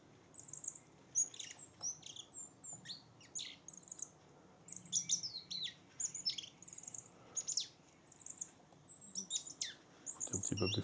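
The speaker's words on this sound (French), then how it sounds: "comme ce petit gazouillis de roitelet huppé" Thin, very high goldcrest song, picked up through a parabolic microphone, comes in repeated short twittering bursts over quiet background hiss, with a brief louder noise at the end.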